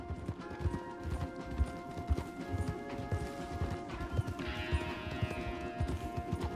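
Horse hooves clip-clop at a steady walking rhythm in Red Dead Redemption 2, close and distinct over quiet ambient outdoor sound. An occasional soft snort or whinny comes through near the end.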